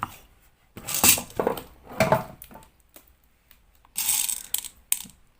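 Cartridges are pushed one by one into a Glock 17 magazine. The result is a series of close, crisp metallic clicks and scrapes in irregular clusters, with short quiet gaps between them.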